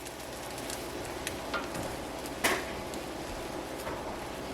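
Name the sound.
egg frying in a cast iron pan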